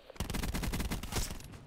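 A sustained burst of rapid machine-gun fire in the video game Black Ops 4, loud and continuous, with evenly spaced shots running almost the whole time and no talking.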